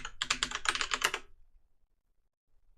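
Rapid keystrokes on a computer keyboard while entering a login password on a Debian Linux machine, a quick close burst of clicking taps that stops abruptly, followed by near silence.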